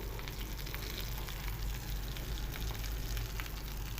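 Aloo tikki, potato and gram flour patties, frying in a pan with a steady, dense sizzle and crackle of hot oil, close and continuous throughout with no talking.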